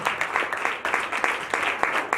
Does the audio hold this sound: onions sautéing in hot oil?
no